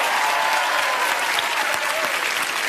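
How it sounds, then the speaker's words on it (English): Steady, dense applause from a game show studio audience, loud and continuous throughout with no talk over it. "Big round of applause."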